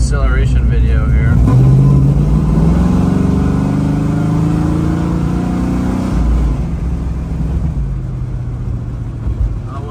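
A 1970 Ford Mustang Boss 302 tribute car accelerating near the beach, its loud engine note rising steadily in pitch as it pulls away, then easing off, with wind and road noise throughout.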